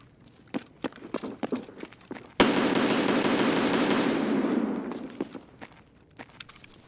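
AK-74 rifle fire in an online shooter game erupts as a loud sustained automatic burst lasting about two seconds, preceded and followed by scattered footsteps, clicks and gear rattles.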